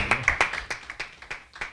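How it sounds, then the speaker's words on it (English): A small audience of about seventy people at a church lecture gives a brief round of applause, sparse individual claps in an uneven, quick rhythm, close and fairly loud, with no talk. "Can we have a round of applause?"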